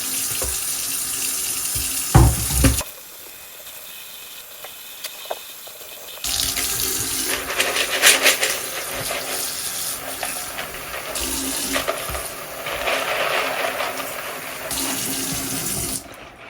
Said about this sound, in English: let's get some hot water, or warm water rather